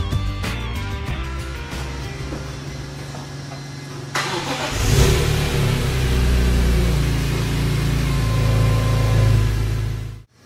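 A 2006 BMW M3 Convertible's 3.2-liter inline six rumbles loud and close, with a clear rev surge midway before settling into a strong, steady drone that cuts off abruptly at the end.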